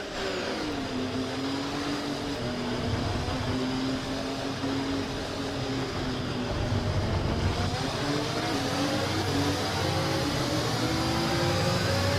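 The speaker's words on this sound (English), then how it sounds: "let's get the car up to temperature on this lap, please. We're learning the gears, so let's go through them all if you can." Racing car engine in the F1 24 video game revs continuously and loudly, a steady high-pitched motor whine rising and falling through the gears for the whole stretch, with no talking.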